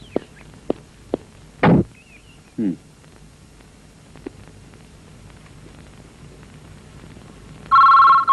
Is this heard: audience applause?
no